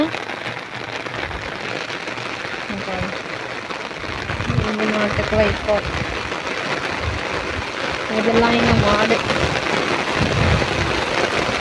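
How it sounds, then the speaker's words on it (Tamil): Heavy rain pouring down in a village, a dense, steady roar of downpour that swells louder partway through, with someone speaking over it. "எங்கள் ஊரில் இப்போ பயங்கரமாக மழை பெஞ்சிக்கிட்டு இருக்கு."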